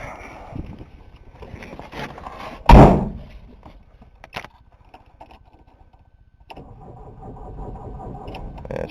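A diesel engine cranks and fires after its glow plugs warm, a sudden loud burst followed by a settling idle; a door thud and soft clicks come before, and the engine keeps running steadily afterward.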